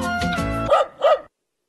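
A voice imitates two dog barks for a commercial pitch for a new dog food, two quick harmonic 'woof' calls following a short stretch of talk.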